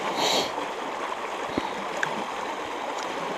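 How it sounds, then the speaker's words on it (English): Havasu Creek flowing through a limestone canyon in the Grand Canyon, a steady rush and gurgle of clear stream water, close and continuous, with a few small splashes and no talking. "This is the Havasu Creek."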